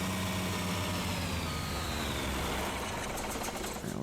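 A truck engine idles nearby in a steady, even mechanical rumble with a faint rhythmic chatter that holds for several seconds, and no one speaks.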